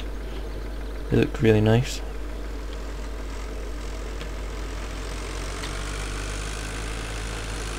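Tractor engine idles steadily in Farming Simulator 2013, a low continuous drone under a brief spoken remark.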